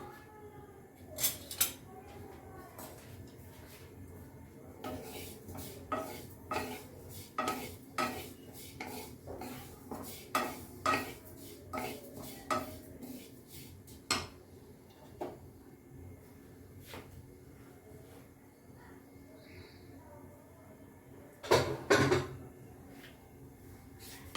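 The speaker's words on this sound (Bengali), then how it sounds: "একটু তিল নিলাম, এটাকে একটু ভেজে নেব" Sesame seeds dry-roasting in a pan, stirred with a spatula in a rhythmic series of scrapes and light metallic taps over a faint sizzle, fairly quiet and close.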